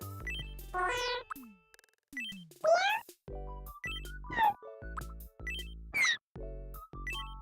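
A pet cat's synthesized meowing voice from the Tomodachi Life video game sounds in a series of about seven short, pitched meows, each with a rising or falling sweep, separated by brief gaps and soft chimes.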